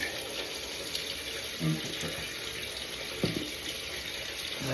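A tap runs steadily into a sink as it fills for washing up, a constant close-up watery hiss with a few soft splashes and clinks in the basin.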